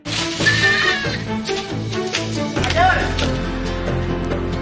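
A goat bleats on a Survivor island amid loud background music and sound effects, a short wavering cry partly masked by the score.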